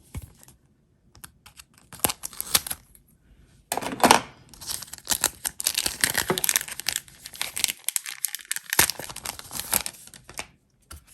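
Scissors snip and plastic packaging crinkles as a parcel of planner stationery is cut open, with close, irregular bursts of rustling and clicking separated by short pauses.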